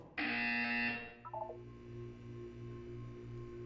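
A test-chamber buzzer in the video game Portal 2 sounds one loud, steady electronic tone for under a second, followed by a short descending run of softer beeps over a low background hum.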